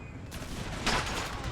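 Musket volleys crackle across a battlefield in the Empire Total War video game, a dense, continuous rattle of distant gunfire swelling briefly into a louder burst before settling back.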